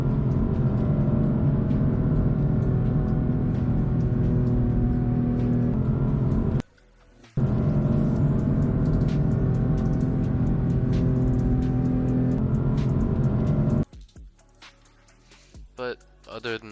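BMW S55 engine deceleration sample for a video game sound mod: a steady, loud droning engine tone that holds for several seconds, breaks off briefly, resumes, then gives way to faint clicks and sparse noises.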